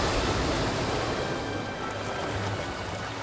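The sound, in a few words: dolphins pushing a bow wave onto muddy shore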